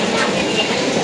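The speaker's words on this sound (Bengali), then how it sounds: "যাচ্ছি গাইস মেট্রো রেলে।" A Dhaka metro rail train in motion produces a loud, continuous rumble and roar with rattling carriage noise, heard close up from on board.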